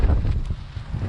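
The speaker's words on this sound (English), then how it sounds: "always nice and windy" Outdoor wind buffeting a microphone in gusty, low rumbling bursts, loud and close, with a faint rustle beneath.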